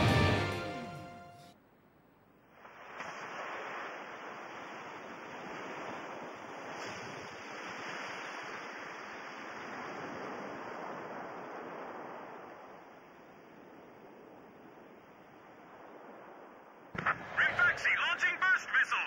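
In the Ace Combat video game, a submarine surfaces through ocean waves with a long rushing surge of churning water and wind noise. Short bursts of radio-like chatter come in at the start and the end.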